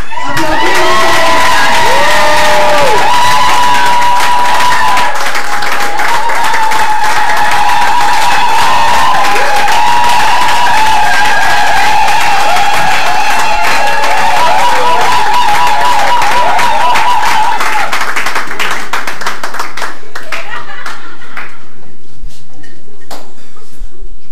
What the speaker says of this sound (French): Jetzt habt ihr gerade applaudiert, weil ich hier vorne stehe.